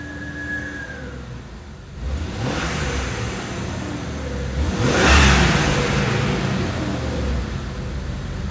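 A Jeep engine, just brought back to running, revs under throttle blips in a shop: a steady idle swells twice into louder revs, with the second rise the strongest, then settles back to a higher idle.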